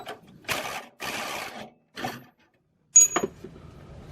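A hand ratchet loosens the driver-side rear fuel tank bolt under a 2000 Toyota 4Runner, several short bursts of clicking near the microphone separated by pauses, then a sharp metallic clack.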